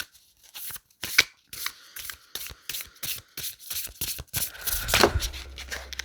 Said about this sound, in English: I'm going to draw a couple more cards to clarify the outcome